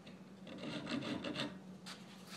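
A hand file rasps against the wood of a pinewood derby car body, with several short back-and-forth strokes at close range over about two seconds.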